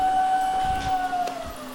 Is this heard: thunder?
no